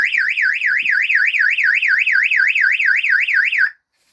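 A 110-decibel shed security alarm blares very loud and close, a rapidly warbling electronic wail rising and falling in steady cycles for over three seconds before stopping abruptly.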